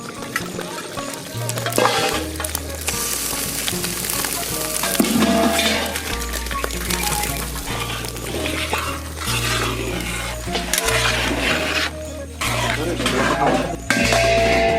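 Prawns sizzling in a hot pan with salt make a steady, loud frying hiss throughout, with occasional stirring scrapes, while a person talks over the cooking and music plays underneath.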